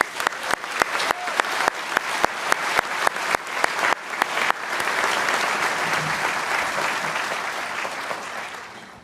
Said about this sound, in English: join me for a moment in recognizing their hard work and dedication with a round of applause